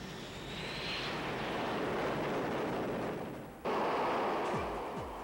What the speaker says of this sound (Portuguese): A esquadrilha inclui pelo menos 4 KA-6D Intruders de abastecimento.